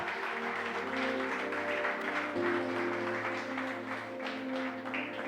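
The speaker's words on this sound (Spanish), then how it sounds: "Dale un aplauso al Señor, por favor, aleluya." A church congregation claps in praise during an evangelical service, the steady applause blending with sustained musical tones underneath, moderately loud and continuous throughout.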